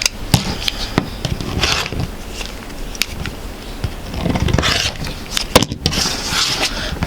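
Fabric quilt block being trimmed along two sides with a rotary cutter against a ruler, steady close scraping and rolling cuts with small taps and rustles throughout, fairly loud.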